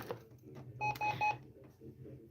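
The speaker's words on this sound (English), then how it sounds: "I just hit a confirmation button on the computer here on the printer. So, and it beeped 3 times" A printer chirps three short, clear confirmation beeps after a button press on its computer panel, close and distinct over low room noise, with faint background voices around them.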